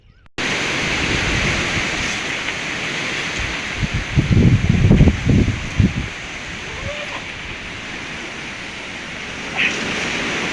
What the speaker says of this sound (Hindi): ये देख रहे हैं पूरा का पूरा एकदम तूफान है जी